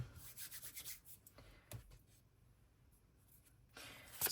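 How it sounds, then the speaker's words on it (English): Tarot cards are shuffled by hand in quick papery bursts of rubbing and riffling, a flurry at the start, a lone swish in the middle and another burst at the end, close and quiet with no speech. "I want to shuffle more cards"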